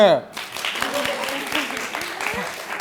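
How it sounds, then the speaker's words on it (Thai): Friends clap together in brisk applause after an opening voice, the claps landing fairly close and fast, with some voices mixed in. "ใครอยากได้ยินเสียงเพื่อนปรบมือ"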